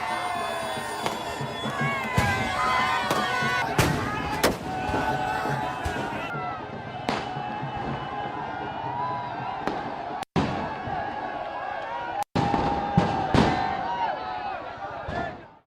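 Fans celebrate India's victory in the streets with loud bursts of fireworks and crowd noise, sharp cracks and bangs repeating over a steady roar of cheering.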